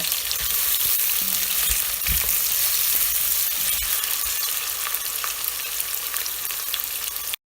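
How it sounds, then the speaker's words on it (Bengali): Onion frying in hot oil in a pan for a masoor dal with zucchini, a steady broadband sizzle with intermittent scraping clinks as it is stirred, close and continuous with no talk. "এখন আমি সেই একটা পেঁয়াজ ছেড়ে দেব এবং একটু নেড়ে চেড়ে পেঁয়াজকে সামান্য একটু রান্না করব"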